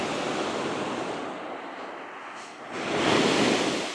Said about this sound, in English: We're gonna just touch the ocean before we leave.